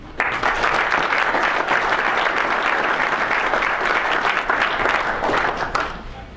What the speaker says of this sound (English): Please give a round of applause for Tony Smith and Jay Clancy.